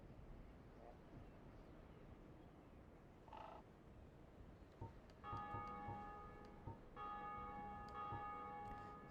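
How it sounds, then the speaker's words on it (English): In Dark Souls, a distant bell of awakening rings twice, its sustained metallic tones clearly heard over a low, murky game ambience. "every time you hear that bell going off, that's a player in another world ringing the bells of awakening"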